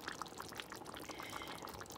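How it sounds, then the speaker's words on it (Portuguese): Water is poured into a pot of beef stew with fresh sausage, cassava and pumpkin, a steady close splashing pour with small bubbly plops, no talk. "E agora, eu juntei um bocadinho de água e agora vou deixar cozer."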